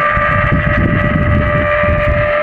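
An air conditioner's fan motor runs noisily before cleaning, giving off a steady, loud hum with a constant whine and a rough, rumbling drone underneath that persists for the whole stretch.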